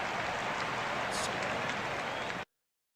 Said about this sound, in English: Oh my gosh, the clapping.